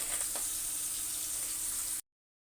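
Pangas fish frying in hot oil in a wok, a steady broadband hiss and sizzle throughout, moderately quiet, with no voices, cutting off abruptly after about two seconds.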